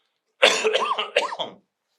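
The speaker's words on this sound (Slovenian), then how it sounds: "Takoj sem začel kašljati." Man coughing during a seated interview, a close, harsh burst of two or three rough throaty coughs with a throat-clearing quality, then silence.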